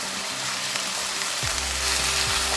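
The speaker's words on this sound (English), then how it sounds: "I'll stir the spices." Spices stirred as they fry in a pan with paprika or red chili powder and garam masala, a steady soft sizzle with faint scraping underneath, close and unbroken, no voices.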